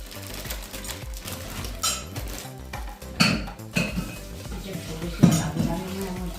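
A lid is set down onto a pan over cooked bhagar and sabudana dosas, giving a few light metallic clinks and knocks among quieter kitchen handling.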